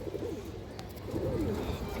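A Kajla gear pigeon coos in soft, low, rounded phrases, close by and steady, with a faint background hum.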